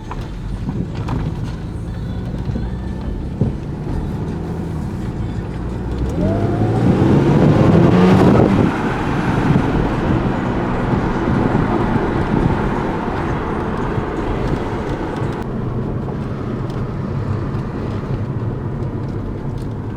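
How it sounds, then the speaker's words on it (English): A supercharged salvage Audi S5 on a test drive, its engine droning steadily from inside the cabin, then building into a loud rising rev midway before settling back to a cruising hum. "I want to feel that supercharger kick in."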